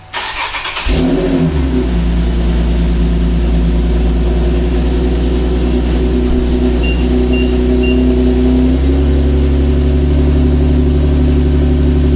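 Nissan 370Z engine cranks and catches, then settles into a steady, loud idle close by after an oil cooler install, a continuous low rumble with no talking over it.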